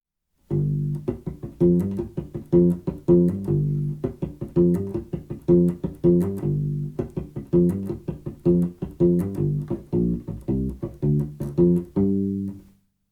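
A punchy U-Bass groove repeats in a steady funky rhythm, sustained low notes broken up by short raked, muted ghost-note plucks, played alone.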